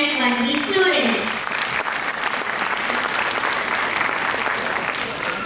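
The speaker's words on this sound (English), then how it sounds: "A big round of applause for our amazing grade 1A and 1B students." An audience at a school annual day function gives a round of applause for grade 1 students, with dense clapping that swells briefly and then settles into steady applause for several seconds.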